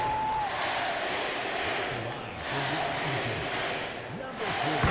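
Arena crowd noise from the NBA 2K25 basketball video game, a broad steady roar of cheering fans at a free-throw moment, with a commentator's voice speaking over it throughout.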